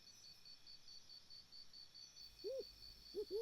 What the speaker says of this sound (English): even that of an owl that hoots on the odd occasion in a distance.